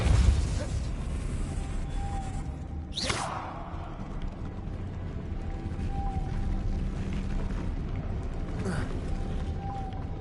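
Depulso spell in the video game Hogwarts Legacy shoving a stone mechanism, a sharp magical burst with a rising whoosh followed by grinding, creaking movement, a second fainter burst near the end over low ambient rumble.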